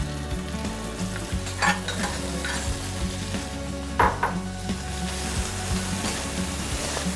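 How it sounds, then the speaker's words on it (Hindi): Boiled potato pieces fry in a pan with browned onion and chili, a steady loud sizzle broken by occasional scrapes and clinks of stirring, with no one talking. "इसके बाद हम जो हमारे उबले हुए और छोटी छोटी पीस में कटे हुए आलू हैं, हम इसको इसमें डालेंगे"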